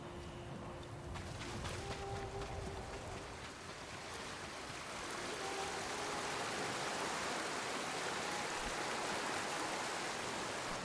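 A waterfall in a PS4 samurai video game gives a steady, broad rushing roar of falling water that continues evenly throughout with no talk, with only faint tonal hints.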